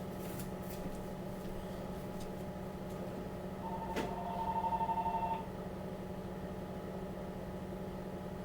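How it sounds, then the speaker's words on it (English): A landline telephone rings once briefly, a short warbling electronic trill set back in a room with a low steady hum underneath, then fades out. "I should have unplugged that phone."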